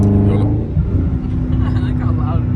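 A Dodge Charger in sports mode revs its engine with a steady low rumble that fills the short stretch, with voices talking over it inside the car.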